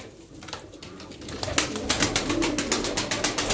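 A mirror-tailed sabuni pigeon coos in soft repeated bursts, close by, with other birds around and the calls growing steadier and more rhythmic toward the end.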